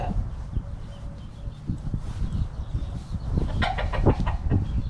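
Several chickens cluck and squawk close by in a backyard flock at feeding time, with a burst of louder, sharper calls near the end.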